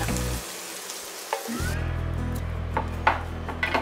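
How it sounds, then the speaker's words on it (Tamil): Okra frying in a kadai hisses steadily at close range. A brief quiet break is followed by renewed sizzling, with a few sharp clinks and scrapes of a spatula against the pan. "இப்போ வெண்டைக்காய் நல்லா ஃப்ரை ஆயிடுச்சு"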